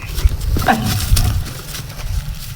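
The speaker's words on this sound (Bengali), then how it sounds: "কুত্তা কুত্তা এলো" A dog lets out a couple of short, rough growling barks close by in an outdoor village setting, with brief background noise between them.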